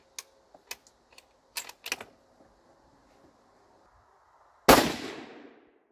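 A single sharp rifle shot from a Savage Axis .223 Remington with a weaver scope, preceded by a few small clicks and handling taps, then one loud, close blast that decays over about a second.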